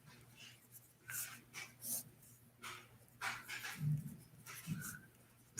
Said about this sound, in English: Let me write that down first.